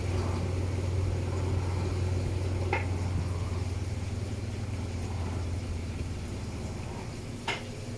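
An Electrolux washing machine spins at maximum speed on a heavy cycle, giving a steady low mechanical hum and whir with a couple of brief clicks, no talking.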